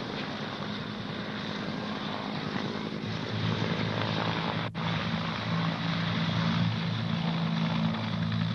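Helicopter rotor and engine drone during an evacuation from Xuan Loc near the fall of Saigon, steady and loud throughout with a thick low throb and broadband roar.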